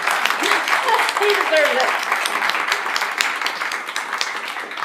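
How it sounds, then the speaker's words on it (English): An audience applauds at a livestream premiere, the clapping a dense, steady crackle lasting throughout while someone speaks over it. "And he doesn't want us to clap for it, but let's clap for it."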